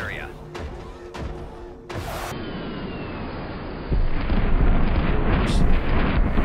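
A heavy airstrike in the PS4 game Helldivers, on a suicide-difficulty bug-nest mission, sets off a string of loud explosions and booms, building into a sustained rumbling roar beneath in-game effects.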